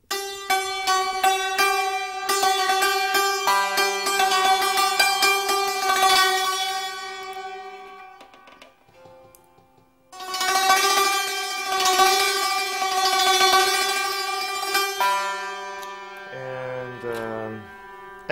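A santur is struck rapidly in bright, ringing tremolo runs with the fa and mi bridges moved to microtonal positions near sol. Two long phrases are separated by a brief pause, ending in lower descending notes, with no talking.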